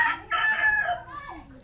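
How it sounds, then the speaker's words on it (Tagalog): A rooster crows close by, a single strained cock-a-doodle-doo with a few clucking notes trailing after, heard alone without talk. "Ito ng manok."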